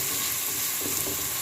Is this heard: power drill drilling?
no